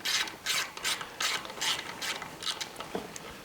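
A ratchet with a 9mm socket tightens long bolts on a Honda GCV 190 engine during reassembly, a close run of quick rhythmic clicking strokes, about a dozen bursts.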